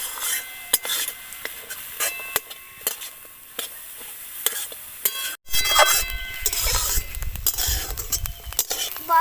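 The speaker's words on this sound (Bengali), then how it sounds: "নুনের জালটা আমি কমিয়ে খানিকক্ষণ এই গাজরটা নাড়াচাড়া করবো।" Grated carrots stirred in a pan over low heat, repeated scraping and rubbing of a utensil against the pan with a faint sizzle beneath, close up; the stirring grows busier and fuller in the second half.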